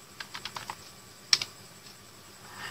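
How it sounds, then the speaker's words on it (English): Typing of commands on a computer keyboard in a Windows command prompt while fixing a write-protected pendrive: a quick run of about six soft keystrokes, then a sharper double tap, close and quiet in a still room. "Okay, now type list disk,"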